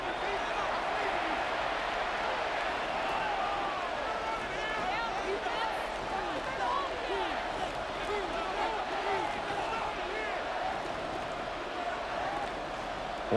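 Stadium crowd in Madden 26 during Bills at Patriots football, a steady roaring wash of cheering with scattered claps and shouts, while a commentator talks over it.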